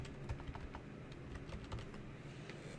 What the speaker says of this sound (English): And then I'll type in Mr. Juarez Wacky Class.